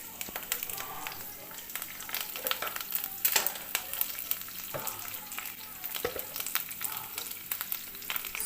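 Broken fresh curry leaves dropped into hot oil for pepper chicken crackle and sizzle loudly up close, a busy, popping fry that continues without pause.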